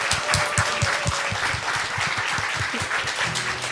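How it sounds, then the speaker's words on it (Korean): A church congregation applauding in congratulation for their pastor, a dense and steady burst of many hands clapping close by, with scattered voices beneath the clapping. "저희 축하와 감사의 박수로 크게 축하드리겠습니다."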